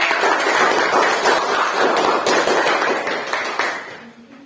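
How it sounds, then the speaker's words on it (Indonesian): An audience in a classroom-style session applauds a group's presentation, with dense, continuous clapping that stays loud throughout before easing off at the end. "Tepuk tangan dulu dong buat."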